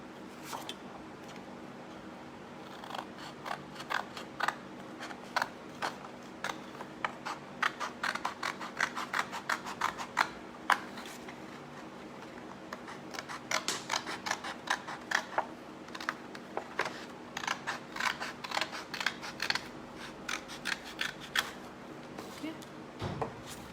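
Scissors snipping paper for a handmade Mother's Day card, many small crisp cuts in irregular bursts over a quiet room hum, close and faint, with a person talking in places.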